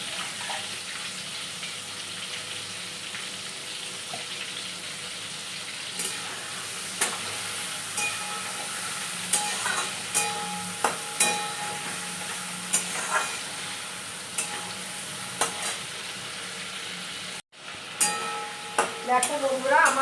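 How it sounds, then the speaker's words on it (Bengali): Prawns fry in hot oil with a steady, close sizzle, broken by light stirring clicks and scrapes and a brief dropout near the end. "তেলটা আমার গরম হয়ে গেছে, এবার ছেড়ে দিলাম চিংড়ি মাছটা"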